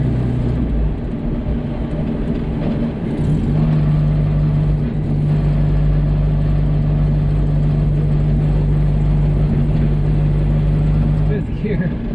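A Datsun 521 pickup with a swapped five-speed gearbox cruises steadily in fifth gear, its engine a loud, constant low drone from inside the cab, with a brief shift in tone near the end.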